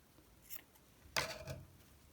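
Scissors snip off leftover yarn from a handmade zigzag knitted scarf, giving a faint click near the half-second mark and then one louder, close cut with a short rustle after it. The setting is quiet, with no talk.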